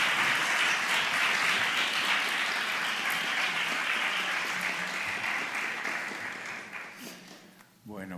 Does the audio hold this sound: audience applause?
yes